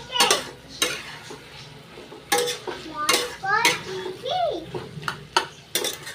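Spices stirred in a cooking pot, a metal spoon scraping and knocking against the pot in irregular strokes with a faint sizzle underneath; a voice speaks briefly in the middle.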